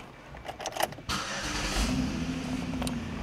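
A Chevrolet Equinox LS SUV cranks briefly with a few clicks, then the engine catches with a surge and settles into an even idle hum, heard up close and alone.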